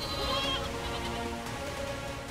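Several lambs bleat loudly and repeatedly, their overlapping wavering cries filling the space close by with no talking.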